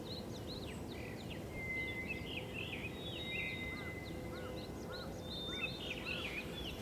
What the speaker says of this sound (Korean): 밤을 지나 아침 새소리로 가득한 동틀녘에 다다른다